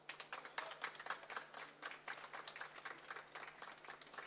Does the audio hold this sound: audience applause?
yes